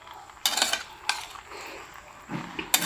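Indian-style Maggi masala pasta is stirred in a pan, a metal spoon scraping and clinking against the pan in several short, fairly close bursts with quiet gaps between them and no talking.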